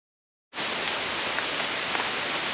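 Steady hiss of rain on a Himalayan mountain trek beginning abruptly after a brief silence, continuous and fairly loud, with faint scattered drop ticks.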